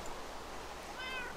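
A Minecraft cat meowing once, a short faint mew over quiet game background noise.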